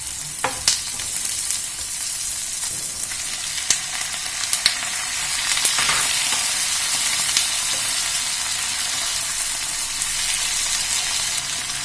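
Diced tomatoes sizzling in hot oil with onions for tomato rice, a steady bright frying hiss with occasional sharp pops and crackles and faint stirring scrapes, close and continuous with no talk.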